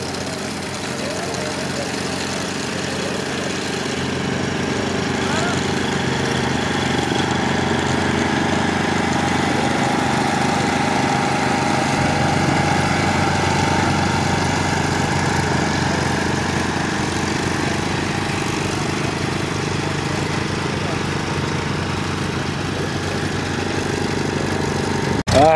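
Ford Model A doodlebug tractor engine running continuously at a steady drone, with a rough low rumble and a constant mechanical hum throughout, fairly loud and close, with a brief knock right at the end.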